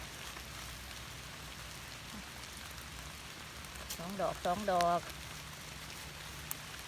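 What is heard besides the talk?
rain falling while gathering mushrooms outdoors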